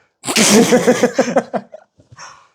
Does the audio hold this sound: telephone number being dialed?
no